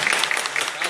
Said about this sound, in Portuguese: Eu queria pedir uma salva de palmas a todos aqui da Lapa.